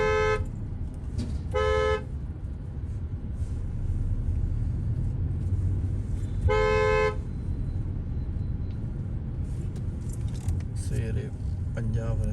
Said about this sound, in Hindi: जबरदस्त ट्रैफिक।